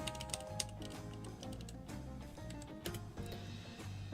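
Keys on a computer keyboard clack in a steady run of quick taps, close and clear, with background game music and no one talking.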